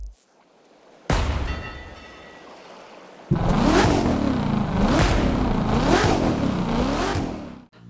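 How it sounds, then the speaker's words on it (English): Car engine in The Crew 2 racing game, first a steady low idle-like hum, then a loud run of repeated rising and falling revs, about four surges in a row, close and dominant. "The engine sounds in this game are very good and are varied across different cars."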